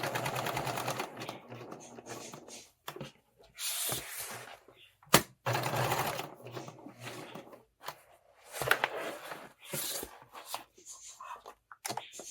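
A home sewing machine stitches a small rectangle on a fabric tool storage roll, the needle running in bursts separated by pauses, close and moderately loud, with no talking.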